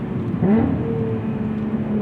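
A 2021 Lotus Evora GT engine revs briefly in a steady, droning exhaust note heard from inside the car, a continuous low hum with a slight rise near the start.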